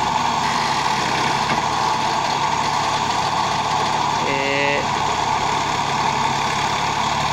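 A small Massey Ferguson tractor engine runs steadily while stuck in mud, a constant loud rumble throughout with a brief tonal whine midway, and faint voices in the background.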